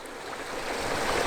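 Gentle steady flow of water over a wide rock bar at Kevill Road Waterfall near Margaret River, a soft continuous wash heard close with no talk.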